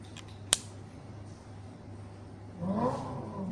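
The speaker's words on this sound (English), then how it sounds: "That's actually the engine noise of a Lamborghini." A smartphone's unlock sound plays a recorded Lamborghini engine roar through its small speaker: a soft click, a quiet pause, then a brief rising rev at moderate volume near the end.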